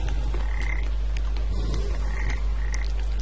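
A toad in the video game Papo & Yo croaks in repeated short rasping calls, close and clear over a steady low background hum.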